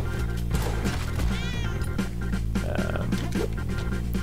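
A cat meowing in the video game Spelunky 2, a short rising mew over busy game music and sound effects.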